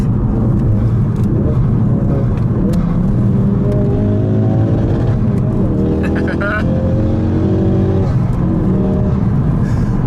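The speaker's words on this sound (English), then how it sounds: "It's just so much fun, and it pops and it bangs." Small Ford Focus RS hatchback driving with a loud, steady engine drone, exhaust crackles and pops scattered through it, and someone talking over the engine noise throughout.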